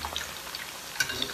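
Pork fillet strips re-frying in very hot oil in a wok give a soft, steady sizzle with fine crackling pops and a couple of sharper spatters, moderately close and heard alone.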